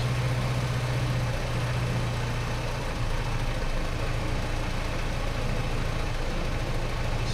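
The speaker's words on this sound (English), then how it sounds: "Bring down the idle a little bit." Engine idling steadily under a carburettor being tuned, the idle speed screwed down a little; a constant low hum with a strong low tone that shifts slightly partway through, close and unbroken, no talk.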